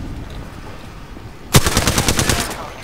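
Gunfire in the Apex Legends video game: after a quiet stretch, a loud, close burst of rapid automatic shots rattles on steadily for over a second.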